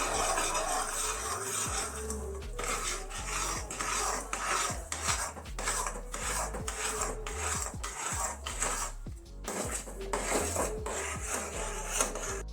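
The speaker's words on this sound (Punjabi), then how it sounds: "ਕੜਾ ਪ੍ਰਸ਼ਾਦ ਨੂੰ ਅਸੀਂ ਉਨੀ ਦੇਰ ਹੀ ਹਿਲਾਈ ਜਾਵਾਂਗੇ ਜਿੰਨਾ ਚਿਰ ਕੜਾ ਪ੍ਰਸ਼ਾਦ ਉੱਪਰ ਘਿਓ ਨਹੀਂ ਆ ਜਾਂਦਾ" A spoon repeatedly scrapes and stirs kada prasad with sugar and ghee in a pan on a gas stove, producing close, rhythmic metallic scraping strokes with short breaks and no speech.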